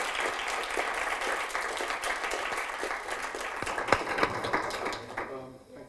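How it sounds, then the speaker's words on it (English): Lively audience applause for a panel at an arts rebranding event, many hands clapping with individual claps standing out, voices mixed in, tapering off at the end. "let's give a round of applause to our wonderful panel."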